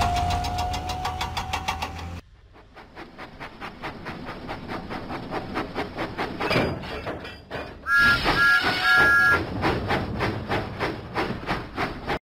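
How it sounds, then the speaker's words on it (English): Thomas the Tank Engine steam train in a video game, rhythmic chuffing puffs with engine clatter and a brief whistle tone, set among bright game music, fairly loud and continuous. "Thomas pumped his pistons and puffed out of the docks."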